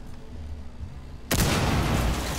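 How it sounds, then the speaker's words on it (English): A large in-game explosion in Rainbow Six Siege erupts suddenly after a quiet stretch, a loud broadband blast that roars on and holds for about a second before slowly easing. "That was a big explosion"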